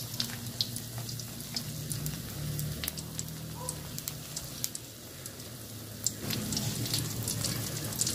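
Beaten eggs for a Thai-style omelette frying in plenty of hot oil, a steady close crackling sizzle with scattered pops, continuous and fairly quiet throughout with no talking.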